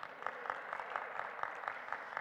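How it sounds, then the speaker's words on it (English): A church congregation during a sermon and worship service applauds softly, a faint, distant patter of clapping with a loosely regular rhythm and no talk over it. "you're applauding"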